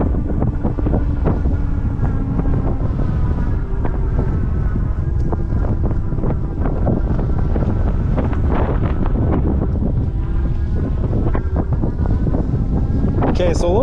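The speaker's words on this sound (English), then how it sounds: "so a little tough to hear in the wind" Loud, constant wind buffeting the microphone while riding a Mokwheel Slate e-bike outdoors, a rough broadband roar that masks most other sound throughout.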